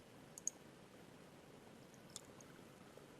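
A couple of faint, sharp computer mouse clicks, one early and one about two seconds later, isolated against a quiet room hiss.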